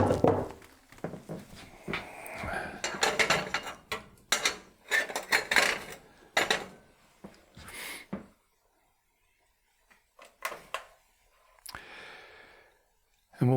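A frying pan handled in a home kitchen while cooking a simple curry: several close clanks and thunks of metal cookware being moved and set down, spread over a few seconds, followed by quieter knocks.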